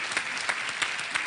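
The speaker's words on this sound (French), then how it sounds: "Là, applaudissez-vous, vous êtes en finale" A studio audience and contestants clap for a family reaching the final of a French TV game show, a fairly quiet, steady patter of applause with a few slightly louder claps.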